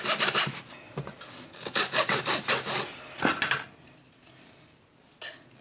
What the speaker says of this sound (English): cut it and sand it down.